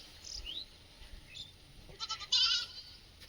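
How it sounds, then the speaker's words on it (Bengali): Goats running home from a village field in the rain, giving a few short, fairly faint bleats toward the end over a soft, steady background hiss. "ছাগলগুলো মাঠ থেকে ছুটে ছুটে"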